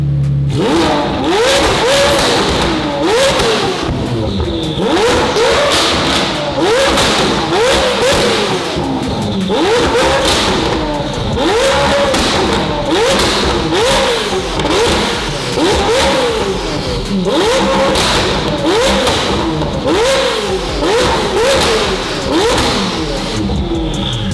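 A loud 1300 hp McLaren 720 GTR engine revs over and over in a steady rhythm, each sharp rise in pitch followed by a crackling drop, very close and continuous, as the car shoots flames.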